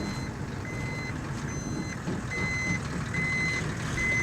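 A tow truck in the driving game Desert Bus sounds steady electronic reversing beeps, evenly spaced high tones repeating over a constant low engine drone.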